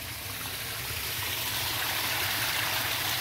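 Continuous rushing underground water pours and gurgles steadily into a sump after heavy rain, a close, full flow with no pauses or voices.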